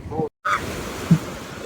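Sea waves wash onto the beach along the Alang shoreline in rainy weather: a short, close surge of surf and hiss, briefly cut out, then a steady wash with a small splash near the end.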